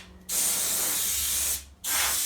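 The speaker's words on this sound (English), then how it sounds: "spray it into all the little nooks and crannies" A pressure sprayer set to about 25 psi blasts Waxoyl rustproofing into a car chassis, two loud sustained hissing bursts separated by a short pause.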